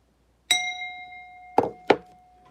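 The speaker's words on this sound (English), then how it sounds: "for every chat we get a strike from the bell" A single bell strike rings out clearly and sustains a long, steady tone, followed by two short, sharp knock-like hits near the end, with no talking.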